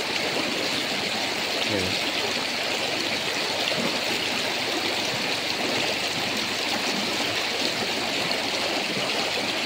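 Constant rushing of a deep river flowing, loud and close, with a brief voice speaking over it, in Tayabas, Quezon.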